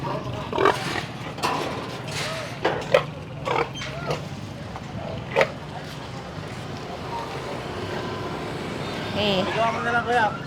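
Large pigs of a good breed grunt and snort in bursts in a farm pen, some close and some a little farther off, while people talk over them and other farm noise carries on.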